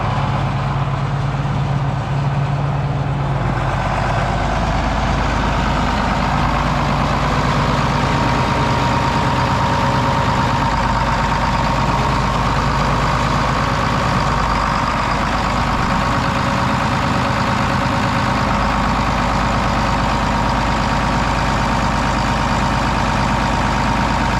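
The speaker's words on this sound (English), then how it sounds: "Still sounds good. That's what a 404 is supposed to sound like." A John Deere 404 tractor engine running steadily at idle, a loud, continuous low diesel rumble with a faint higher whine, nearby and unbroken, no voices.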